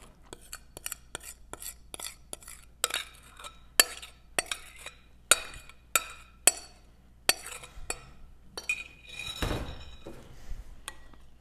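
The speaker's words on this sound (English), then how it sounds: "So now we're going to add the creamed mixture to our dry mixture." Chocolate zucchini bread batter is stirred in a bowl, a spoon knocking and scraping against the sides in a series of clinks and taps that speed up toward the end, with no talking.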